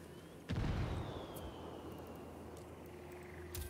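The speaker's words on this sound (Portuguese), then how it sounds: "Granada!" A grenade explodes in a video game with a sudden deep boom close by, followed by a long rumbling decay under a steady background hum, and a second smaller pop at the end.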